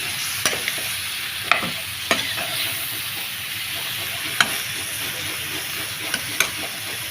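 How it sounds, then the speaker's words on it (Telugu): Tomato pieces sizzle steadily in a hot frying pan for a dried-fish, eggplant and potato pulusu, with a spoon scraping and clicking against the pan every second or two. "ఇప్పుడైతే టమాటా ముక్కలు అయితే వేసేసుకుందాం అనమాట"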